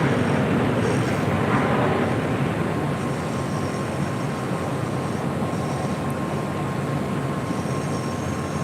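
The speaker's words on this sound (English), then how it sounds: "Have a couple of 777 freighters lining up for departures there on the south side" Boeing 777 freighter jets lining up for departure on the south side of LAX airport, heard as a loud, steady broadband roar of distant jet engines holding throughout.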